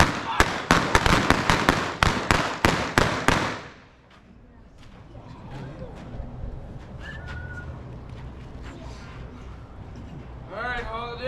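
Gunshots at an Old West gunfight show in Tombstone, Arizona: about eight sharp, loud blasts crack in quick succession, then fade into quieter outdoor crowd murmur with faint whistles and bird calls.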